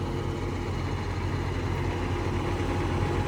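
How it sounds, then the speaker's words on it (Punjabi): A 5630 tractor engine runs steadily at close range, a constant low throbbing rumble with no voices. "ਦੇਖੋ ਚੱਲਦੇ ਦੋਨੇ ਢੱਡੇ ਪੂਰੇ ਨਜ਼ਾਰੇ ਦਾ ਟਰੈਕਟਰ ਚੱਲਦੇ ਆ"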